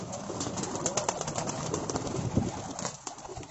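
Domestic pigeons at a Rawalpindi loft coo continuously and close by, their low murmuring calls overlapping in a busy, steady chorus with faint rustling and flapping in the background.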